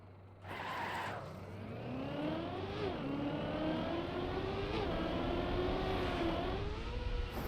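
A car in the Trackmania racing game drives toward a jump, the engine whining and rising in pitch as it accelerates, with a brief skid, loud and continuous with no talk.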